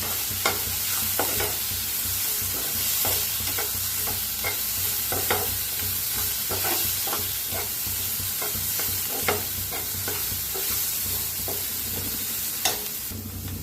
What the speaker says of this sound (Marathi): टाकूया हळद, मिक्स करूया